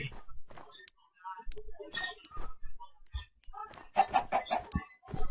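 Blocky Minecraft chickens cluck in short, scattered bursts amid game effects and a player's excited Thai chatter during a survival session.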